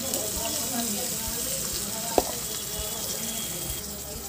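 Cumin seeds sizzling in hot oil at the start of an aloo paneer kofta masala, a steady bright frying hiss that runs throughout with one sharp clink partway through.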